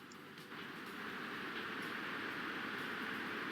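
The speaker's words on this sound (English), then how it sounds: "So let's go check out our new tram real quick." A single-car tram runs along its line in the Transport Fever 2 game, giving a steady, continuous rolling rumble with a faint rail clatter that holds level throughout, with no voices.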